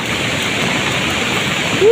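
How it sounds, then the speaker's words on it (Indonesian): Large flood river surging with muddy water, a steady dense roar of rushing water that fills the whole clip, close and loud, with a brief voice at the very end. "Banjirnya cukup lumayan besar."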